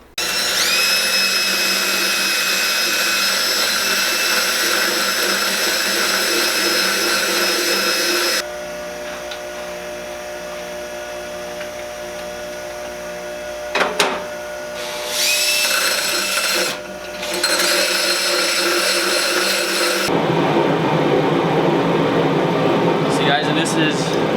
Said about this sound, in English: we still have to grind these bolts for the couplings